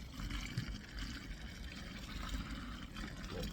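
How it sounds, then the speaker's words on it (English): Water poured onto hot lime mortar powder makes a steady, soft, hissing trickle that stays even throughout with no voices. "But what happens when I start to add water"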